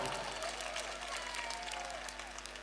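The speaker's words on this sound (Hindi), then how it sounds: "बजाओ तालियां।" Faint, steady applause rises from the audience at a Hindi poetry recital, a dense patter of many hands over a low electrical hum, with some speech mixed in.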